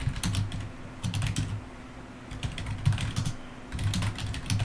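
Code being typed on a computer keyboard in bursts of rapid keystrokes separated by short pauses, close and clear, with no voice.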